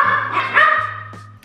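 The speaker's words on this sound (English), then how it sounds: "It wouldn't be a video without my dog barking." A single dog barks up close, a short sharp bark followed by a brief yelping whine, loud and alone over a steady low electrical hum.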